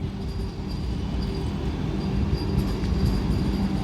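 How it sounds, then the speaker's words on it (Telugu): A Vande Bharat train moves at a station, a steady, loud low rumble of rolling carriages filling the scene without any break. "ఇంకా వందే భారత్ ట్రైన్ అయితే మూవ్ అవుతుంది చూడండి."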